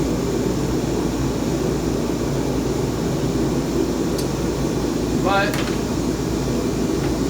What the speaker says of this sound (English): My heater's making a weird noise.